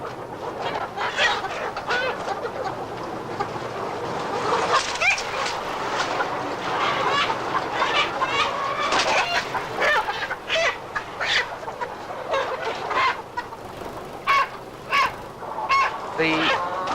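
Laying hens in battery cages cluck and squawk in a dense, noisy chorus, many birds calling over one another in rapid irregular bursts, with a voice talking now and then.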